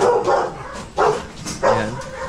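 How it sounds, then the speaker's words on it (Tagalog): A Belgian dog gives three loud close barks in an even rhythm, with short pauses between them, at a kennel in Tondo, Manila. "silipin natin yung aso ni Roy."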